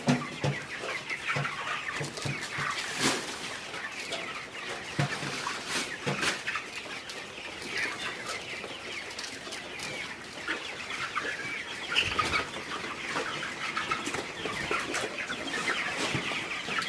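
Broiler chickens crowd a pen house, clucking and calling in a dense, continuous chatter at moderate volume with scattered sharper squawks and no talking.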